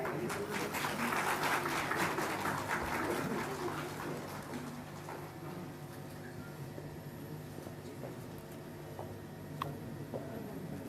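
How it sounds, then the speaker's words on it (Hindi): Audience applause at a Jharkhand government award ceremony with the Chief Minister present: a burst of clapping that is loudest at first, then fades into scattered claps over a quiet hall murmur. "तालियां आपकी तरफ से।"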